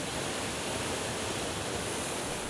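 A waterfall in Nyungwe forest, Rwanda, giving a dense, even roar of falling water that holds at a constant level throughout with no voices.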